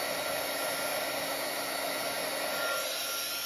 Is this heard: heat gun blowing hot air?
yes